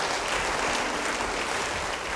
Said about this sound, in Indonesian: Yang setuju beri tepuk tangan bagi dia.